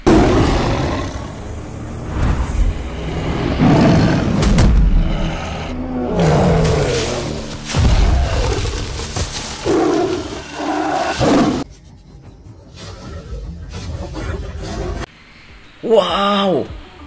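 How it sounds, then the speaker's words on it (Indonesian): A tiger roars loudly and fiercely several times at close range amid a toy truck play scene with zoo animals, with a person talking excitedly over it and a short high squeal near the end. "Ganas juga ini harimau."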